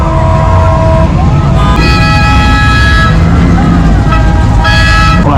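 A Chevrolet Nova in a Pearl Harbor parade gives several bright horn toots in short bursts, close and loud over the steady noise of the crowd, the street and a marching band.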